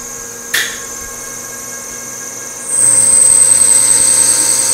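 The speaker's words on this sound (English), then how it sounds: "So we're parting off 304 stainless." Metal lathe parting off 304 stainless steel with a carbide insert at 620 RPM: a steady machine hum with a brief tap early, then a louder, continuous high-pitched whine from the cut that holds to the end, close by with no talking.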